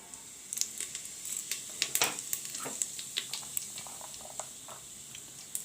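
Cumin seeds (jeera) sizzle in hot oil at the start of a pulao, giving faint, scattered crackles and sharp little pops over a quiet kitchen background.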